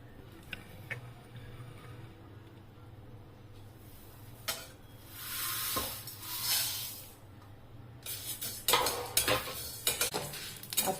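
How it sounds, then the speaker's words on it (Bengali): Black mustard seeds, fennel and fenugreek dry roasting in a dry kadai for mango pickle give off a faint sizzle, light scraping from stirring and scattered crackling pops that grow denser and louder toward the end. No one speaks. "এই দেখো সর্ষে চিরবির করে আওয়াজ করছে।"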